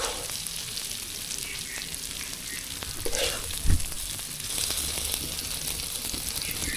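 Spiced egg frying in a pan for a pre-dawn Ramadan meal, a steady broadband sizzle crackling throughout with a brief louder pop partway through, no voices.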